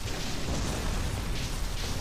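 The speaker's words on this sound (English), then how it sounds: "Look at the explosions when he lands." Explosions burst as Godzilla lands in the Godzilla PS4 video game, a dense, continuous roar of rumbling blasts and debris filling the whole stretch at steady loudness.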